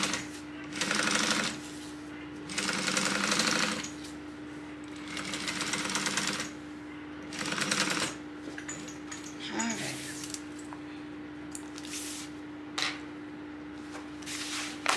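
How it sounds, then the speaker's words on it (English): Sewing machine top stitching along a fabric tote bag, running in several short bursts of rapid whirring with pauses between, close and fairly loud over a steady low electrical hum. "I'm just going to go 1/8 of an inch all the way across for this top stitching length."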